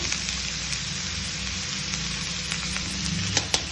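Vegetables sizzle and fry in a hot pan for street-style Hakka noodles, a steady close crackle with a few sharper pops and light stirring near the end, without any talk.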